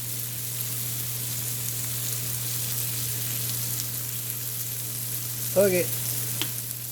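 Pine mushrooms, button and white matsutake seasoned with garlic salt, frying in a pan with a steady soft sizzle and a low steady hum beneath, one brief word spoken near the end.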